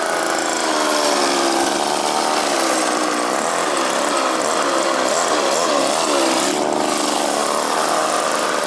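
A vintage Raco Jack Rabbit minibike's small engine runs steadily just above idle, a loud continuous buzzing drone that holds throughout, with no talking.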